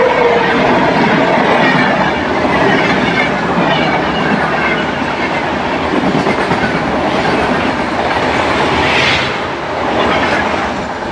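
The Tamil Nadu Sampark Kranti superfast express rushes through Khammam railway station at full speed without stopping, a loud, close, sustained roar of wheels and rattling coaches with rhythmic clatter throughout.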